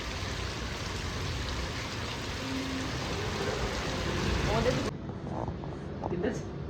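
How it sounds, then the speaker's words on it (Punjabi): Steady, dense rain pours down for several seconds, then the hiss cuts off abruptly into quieter ambience with faint voices. "ਅੱਜ ਤਾਂ ਮੀਂਹ ਨੇ ਕਮਾਲ ਕਰਤੀ"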